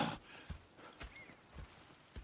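Horses in the Red Dead Redemption 2 video game, heard as a few soft, spaced hoof clops at a slow walking pace, fairly quiet and close, with no talk over them.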